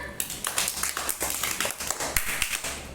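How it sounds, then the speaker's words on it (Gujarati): A class of first-grade children claps together, a quick ragged run of many hands slapping over three seconds with some voices mixed in. "તો તાળી પાડો બધા"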